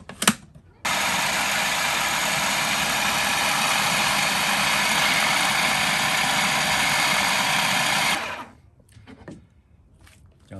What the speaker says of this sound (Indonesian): Dan sekarang kita blender halus.